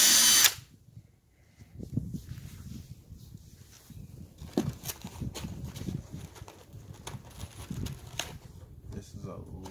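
A power drill drives screws into a 2x4 frame of a DIY raised wooden garden bed. A loud burst opens the clip, followed by low thumps and handling noise while someone talks nearby.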